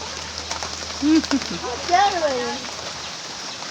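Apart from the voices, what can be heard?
rain falling during a storm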